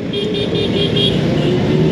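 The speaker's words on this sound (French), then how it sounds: "à défaut de faire chanter ma moto, je klaxonne" Motorcycle horn honked repeatedly during a large group motorcycle ride in Guadeloupe, a rhythmic series of short toots over steady engine and road noise.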